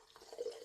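Tap water running from a faucet into a home kitchen sink, a soft steady splashing flow that grows a little louder partway through, faint and close with no one talking.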